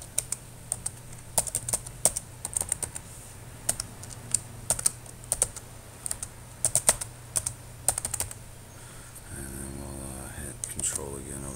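A password being typed on a computer keyboard during an operating system setup in VirtualBox, with crisp, close keystroke clicks in quick irregular bursts over a steady machine hum, followed by a brief pause and a tonal sound near the end.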